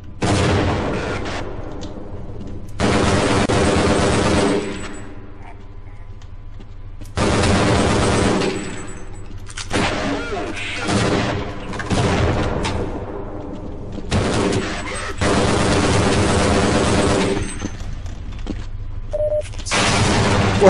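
A tank in Half-Life Blue Shift fires its gun repeatedly, each heavy booming blast followed by a long rumbling decay, several loud shots spaced seconds apart.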